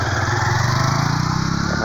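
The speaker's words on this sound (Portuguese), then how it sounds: "O rapaz passando na moto aqui," A motorcycle engine drones close by on a small country road, its steady buzzing rumble holding loud and even throughout the short stretch with no talking.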